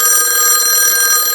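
A telephone rings with a steady, bright, continuous electronic tone, loud and close, with no voices.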